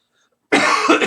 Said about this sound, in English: Someday I'll shake this cough.